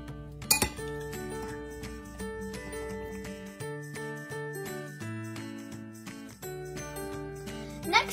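Utensils clink and chime against dishes and glass while cooked noodles are scooped into a cup, a run of close, bright ringing taps with a sharper clatter near the start and again at the end.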